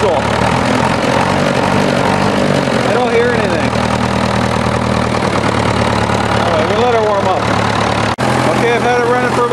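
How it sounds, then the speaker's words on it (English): A diesel tractor engine with a low oil-pressure fault idles: a loud, steady low rumble with even harmonic drone throughout, and voice-like sounds faintly over it. "Now I'm going to let that idle like that for 10-15 minutes"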